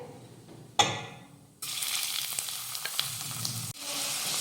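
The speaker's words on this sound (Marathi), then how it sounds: "हे जिरं व्यवस्थित भाजून घेऊयात" Cumin seeds roast in a pan, sizzling steadily, with a sharp clatter early on and a brief pause before the frying resumes close and loud.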